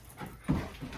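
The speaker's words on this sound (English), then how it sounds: "He's like a little friendly puppy." A friendly young dog gives a couple of soft whimpers and a brief, slightly louder yelp amid quick panting breaths, close by and without any talk.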